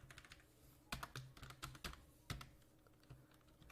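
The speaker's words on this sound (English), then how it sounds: "so I will type here ul list" Quick, irregular clicks of fingers typing on a computer keyboard while writing Python code, quiet and close, with short bursts and pauses and no talking.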